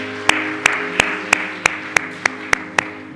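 A church congregation claps together at a Sunday worship service, sharp even handclaps spaced about a third of a second apart over a low sustained organ or keyboard tone.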